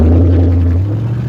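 An LS-swapped lowrider car's engine idles steadily up close, a loud, continuous low rumble with a constant hum and no talk over it.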